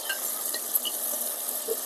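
Boiled cluster beans stirred into sizzling onions in a pan, giving a steady close frying hiss with a few light spatula scrapes over a brief stretch.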